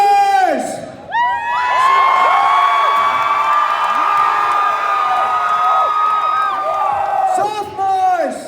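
Junior class students at a high school homecoming assembly roar, cheer and whoop loudly as a crowd, a sustained wall of shouting lasting several seconds, with a single voice calling out at the start and end.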